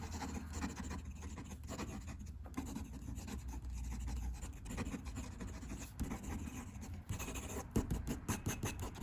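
A fountain pen nib scratches softly across paper in short strokes, a faint and close sound with slight feedback against a low steady background hum.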